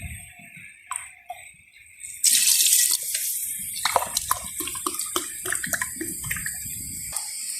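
Water pours steadily into a cooking pot for spicy chicken rice porridge, starting with a few splashes then a sustained gushing stream with sloshing and drips, close by.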